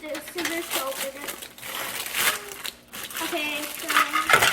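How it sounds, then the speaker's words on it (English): Plastic packaging from a toy sand kit being cut open with scissors, giving continuous crinkling and crumpling with small snips and clicks, while someone talks over it. "just use the scissors to open it"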